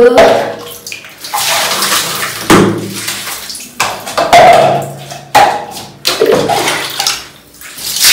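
Water runs from a bathroom tap during a final cleaning, a steady splashing rush broken by short pauses and bumps, close and fairly loud, with a few brief clatters between bursts.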